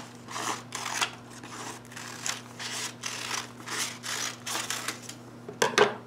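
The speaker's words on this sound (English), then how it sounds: "we are gonna cut out kind of a half oval shape" Scissors snipping a half-oval shape out of a folded sheet of paper, a run of short crisp cuts in an uneven rhythm, close and moderately quiet over a steady low hum, with a sharper burst of snips near the end.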